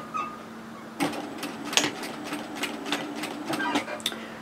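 A domestic sewing machine stitches a side seam with a 1 cm allowance in knit fabric for a two-fabric tee. The motor runs in short, rapid bursts, close and fairly loud, with brief pauses and clicks between the runs.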